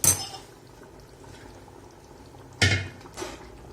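Water splashes into a pot of chicken curry in two short bursts, the second louder, with quiet kitchen background between them.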